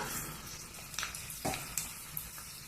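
Mustard seeds and cumin crackling in hot oil along with peanuts: a steady, faint background sizzle broken by a few sharp pops and spits, with no voices.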